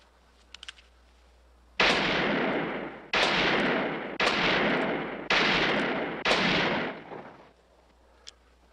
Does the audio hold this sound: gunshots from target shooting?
yes